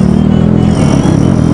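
Jawa 42 motorcycle going past, a loud close engine rumble with a chugging low throb and a brief dip before the roar resumes.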